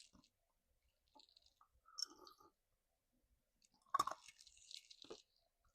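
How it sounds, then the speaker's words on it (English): Ice cubes are crunched between the teeth in two close, quiet bursts of crisp cracking and chewing, set apart by near silence. "I like to crunch ice."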